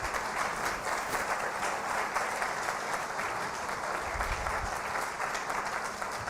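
An audience applauds the Immigration Coalition team, a steady, even wash of clapping from many hands that holds for the full stretch without a break.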